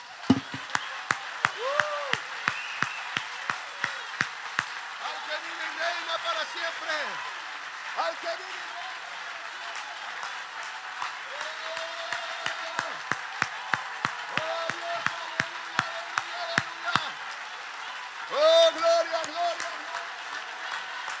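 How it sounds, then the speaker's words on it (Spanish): A church congregation at a Spanish-language service claps in a sharp, rhythmic beat, with voices calling and singing loudly over the steady, fairly close clapping. "Dale un aplauso al rey."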